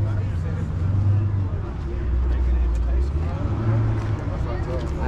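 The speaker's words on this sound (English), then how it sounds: "I hear me a motor." A motor engine runs nearby with a low steady rumble that swells and eases, while a person talks over it throughout.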